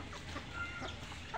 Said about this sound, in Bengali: ভাত পড়া মাত্র হাঁস মুরগি কবুতর সবাই এসে পড়ে